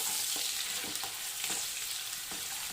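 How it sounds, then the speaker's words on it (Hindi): White parts of spring onion fry in a hot pan, giving a steady bright sizzle throughout with a few soft stirring clicks scattered across it; no voices. "स्प्रिंग ऑनियन का, वो डाल देंगे अपन इसमें और अच्छे से इसे फ्राई कर देंगे 1 मिनट के लिए"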